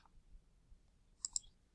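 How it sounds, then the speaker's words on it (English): A computer mouse button is clicked twice in quick succession, two soft, close, crisp clicks in near silence. "we're simply going to click that undefined button down there and click submit."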